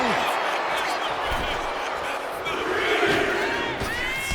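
A wrestling arena crowd in WWE 2K25 roars and cheers in a continuous, dense wash of noise, with shouted voices rising out of it toward the end.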